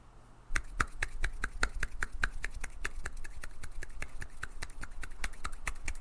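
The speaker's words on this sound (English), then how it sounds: "That's my one hand clapping" A modest one-handed clap repeated in a steady, fairly quick rhythm, about twenty sharp slaps close to the mic, with no talking over them.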